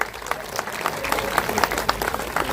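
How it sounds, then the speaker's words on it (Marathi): A crowd at a felicitation ceremony claps, with distinct individual claps scattered across a moderate, fairly close burst of applause. "जरा टाळ्या होऊ द्या।"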